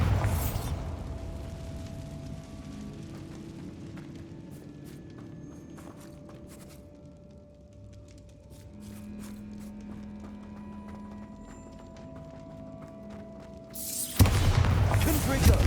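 Bombarda spell from Hogwarts Legacy, a video game, going off near the end as a sudden loud broadband blast that cuts through a quiet stretch of game ambience and footsteps.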